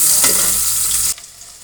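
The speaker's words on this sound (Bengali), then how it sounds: "দেখতেই পাচ্ছেন আমাদের পেঁয়াজটা ভাজা হয়ে এসেছে।" Onions frying in oil in a pan while being stirred, a bright steady sizzle with a scrape of the spoon partway through, cutting off suddenly near the end.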